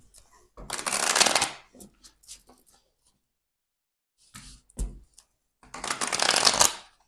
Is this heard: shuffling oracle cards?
yes